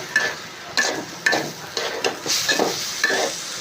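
Pilao rice with whole green chilies and a splash of milk sizzles in a pan while it is stirred, with regular scraping strokes at a steady rhythm over a loud fry.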